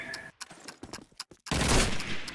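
Gunfire in the video game Call of Duty 2 on a competitive multiplayer map: several sharp separate shots, then a loud dense burst of firing, with no voices over it.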